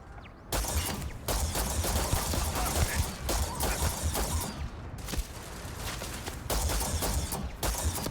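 Turret gunfire in Starfield, long runs of loud, sustained shooting broken by a few brief pauses, steady and close throughout, with no speech.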